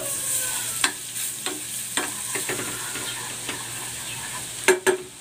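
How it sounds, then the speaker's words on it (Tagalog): Garlic sautéing in a pan with a little oil and butter, a steady soft sizzle broken by scattered clicks and clinks of a utensil stirring, with a couple of sharper taps near the end. "Maglalagay ako ng konting oil at ng butter. Igigisa ko na dito itong bawang."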